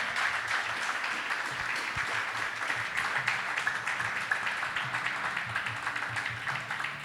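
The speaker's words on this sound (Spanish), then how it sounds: "¿Cuánto le pueden dar un aplauso al Señor?" A church congregation claps together for several seconds, a steady, moderately distant wash of applause with a faint murmur of voices underneath.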